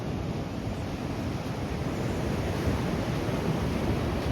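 Ocean surf rolls onto the beach at Lincoln City on the Oregon coast in summer, a continuous broad rushing wash with steady wind noise on the microphone and no talk.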